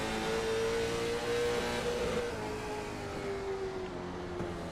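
Race car motor at Lanier National Speedway, a steady loud engine drone with a rising and falling pitch as the car is driven hard, held under full throttle for the whole stretch with no braking lulls.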